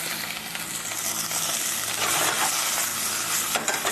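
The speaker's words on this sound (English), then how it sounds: "I'm going to saute that for a minute." Coarsely chopped garlic sautéing in a pan, a steady bright sizzle with occasional stirring scrapes and a brief clink near the end, no voices.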